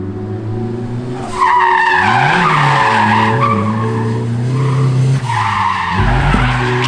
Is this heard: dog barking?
no